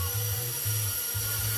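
The twin motors of an RC winch run while raising a load, making a loud, constant high-pitched whine with a low pulsing hum that stops and starts throughout.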